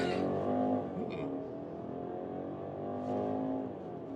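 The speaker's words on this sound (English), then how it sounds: "that is 100 kilometers an hour with a 2-liter 4-cylinder" A BMW X3 30i with a 2-liter four-cylinder engine accelerates hard to 100 km/h, its engine note a steady, close, continuous drone heard from the cabin, with a faint voice briefly exclaiming near the start.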